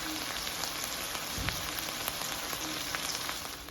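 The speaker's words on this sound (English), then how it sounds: "And I'm about to start cooking my steak." A marinated rib eye steak fries in a pan, giving a steady, fairly quiet crackling sizzle with scattered pops and no voices.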